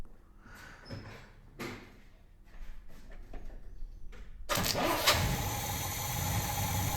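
A few clicks and clunks come first, then a car engine with contact-breaker points ignition cranks, catches and roars into a loud, steady idle.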